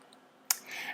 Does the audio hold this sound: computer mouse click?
yes